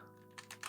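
Keys on a computer keyboard are tapped in three quick, soft clusters, fairly close and faint, over a steady low background hum.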